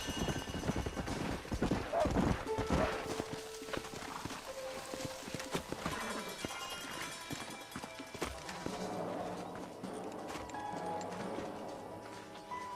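Horse hooves clip-clop steadily over ground in the video game Red Dead Redemption amid busy ambient noise, the rhythmic trotting loud at first and fading somewhat, with faint speech mixed in.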